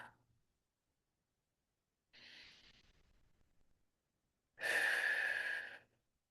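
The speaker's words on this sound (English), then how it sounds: "Just breathing here to receive a little bit and let go." Slow, deep human breathing during a sound healing session: a long soft inhale followed after a pause by a louder, breathy exhale, close and alone in a quiet room.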